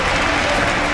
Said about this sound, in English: applause and, to be honest, explosion of noise that's been produced here for them today